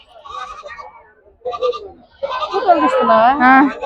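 Goats bleat in wavering cries at a sheep and goat market, the loudest drawn-out call near the end, mixed with nearby chatter.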